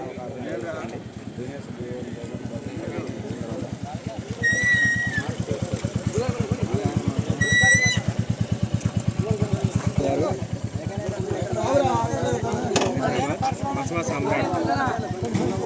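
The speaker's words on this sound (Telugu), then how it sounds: "వారి బైక్ని కోర్టులో నడిపిస్తున్నారండి" A motorcycle ridden around a court at a junior bike competition, its engine a steady rhythmic pulsing that swells slightly midway, heard under someone talking throughout.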